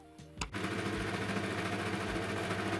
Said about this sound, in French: je vais pouvoir passer à la machine à coudre